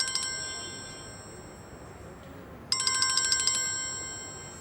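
A telephone ringtone signals an incoming call, two bursts of rapid, bright electronic trilling tones separated by a quiet gap of about two seconds, close and alone with no talking.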